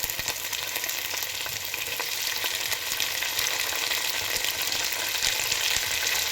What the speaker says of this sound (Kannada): ಟೊಮೊಟೊ ಸ್ವಲ್ಪ ಮೆತ್ತಗಾಗೋವರೆಗೂ ಫ್ರೈ ಮಾಡಿ